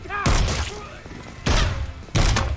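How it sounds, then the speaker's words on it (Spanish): Three sharp, loud gunshots ring out at uneven intervals from a TV series scene, with a faint voice before the first. "Y no contenta con darle tres disparos"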